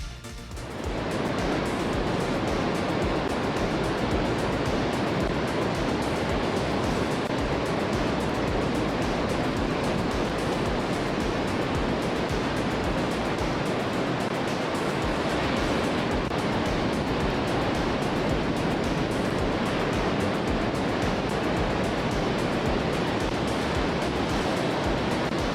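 Ocean waves and wind out at sea, a dense steady roar of rushing water and wind noise, constant and fairly loud throughout with no distinct breaks.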